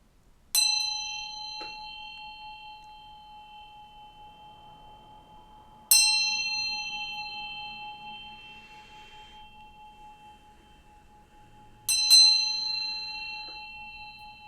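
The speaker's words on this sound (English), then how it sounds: "I'm going to ring this bell to bring some good vibes" A bell is struck three times at even intervals of about six seconds, each strike ringing out loud and clear, then sustaining a long, slowly fading tone in a quiet room.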